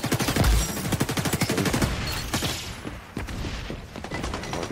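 An AK rifle in xDefiant fires rapid automatic bursts, a dense string of sharp cracks that is loudest early on, then thins into shorter intermittent volleys, close and punchy with no talk.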